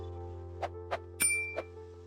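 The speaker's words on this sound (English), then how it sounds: "Don't forget to press the bell icon." Notification bell chime effect: four short, bright metallic dings spaced about a third of a second apart, the third one louder and ringing longer, over a faint steady hum.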